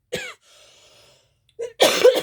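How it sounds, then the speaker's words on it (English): A single harsh cough bursts out near the mic at the start, followed by a quiet hum and another short throat-clearing burst with a rougher exhale at the end, indoors during an art journal demonstration. "Apologize for the cough."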